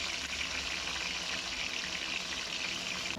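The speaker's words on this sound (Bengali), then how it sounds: "প্রথমে ফুলকপি ভাজা হচ্ছে তারপরে হচ্ছে আলু ভাজা" Cauliflower fries in a pan with a soft, even, continuous hiss, faint and unbroken throughout, with no talking.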